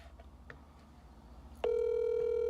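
A phone call on a podcast set: a few faint clicks, then a loud, steady electronic tone starts partway through and holds to the end over a low background hum.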